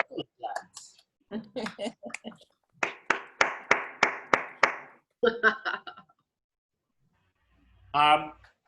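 A run of about eight distinct, evenly spaced hand claps close to the microphone during a virtual artists' talk, with brief talk before and after and a short voice near the end.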